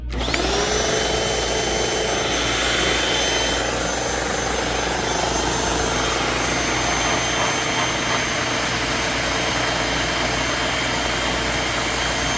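A thrift-store vacuum cleaner with a bad belt runs steadily at close range, a loud constant motor whine and airy roar that holds unchanged throughout with no voices.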